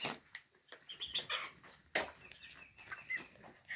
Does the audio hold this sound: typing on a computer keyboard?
no